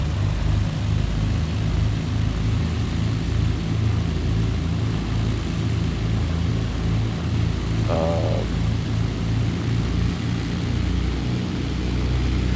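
Twin piston engines of a Britten-Norman Islander in Microsoft Flight Simulator give a steady, loud, meaty propeller drone throughout, with a brief higher chirp midway.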